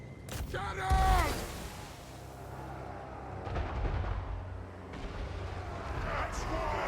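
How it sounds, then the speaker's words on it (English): Cannon fire in a fantasy battle game, with a heavy boom near the start followed by further distant rumbling blasts amid battle noise, while voices shout in the background. "Cannon!"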